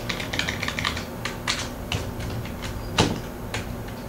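Rapid clicking of computer keys being typed in irregular bursts, close up, with a sharper louder keystroke partway through.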